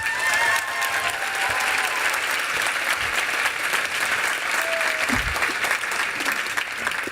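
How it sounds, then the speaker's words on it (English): A large audience at a business event applauds in a sustained, dense round of clapping that holds at an even level from start to finish, with a few faint voices mixed in. "let's give them another massive round of applause"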